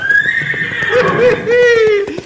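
A horse on a mountain trail lets out a loud, drawn-out whinny lasting about two seconds, close by and prominent, with faint hoof clopping beneath it.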